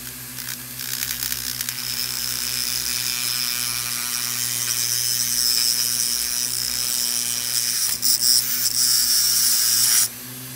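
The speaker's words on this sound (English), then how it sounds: "now we're going to have to cut this rod right here so that it lays perfectly in the chassis" A metal rod for a slot car chassis is cut with a small high-pitched rotary tool, a steady whining grind held for about ten seconds, close and loud, ending abruptly, with no talk.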